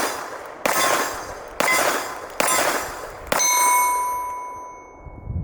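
Para Ordnance PRX 1445, a .45 1911 pistol, fired at a range: four loud, sharp shots spaced under a second apart, the last followed by a ringing metallic tail as it fades.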